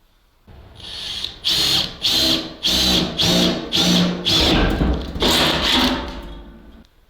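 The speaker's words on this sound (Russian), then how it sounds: "Сверлим отверстие." A drill bores a hole in the fuel tank of a ZIL-131 truck, whirring in short repeated bursts of about half a second each, loud and close, with a brief grinding rise near the middle.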